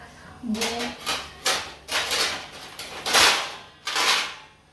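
Several sharp metallic clatters and knocks as a lid is set down on a pot of cooking sabudana khichdi, with a brief voice near the start.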